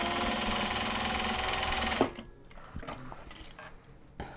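A sewing machine stitches a seam on a Japanese fabric bag, a fast, steady mechanical chatter for about two seconds that stops abruptly, followed by faint clicks and handling.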